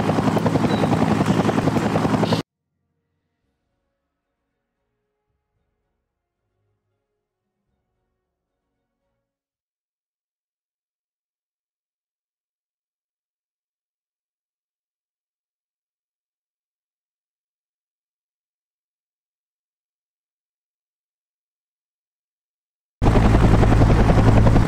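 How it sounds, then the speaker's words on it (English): A military helicopter in the Vietnam War game The Hell in Vietnam sounds its loud, chopping rotor drone briefly at the start, then falls into a long silence before the rotor returns near the end. "I hear a chopper."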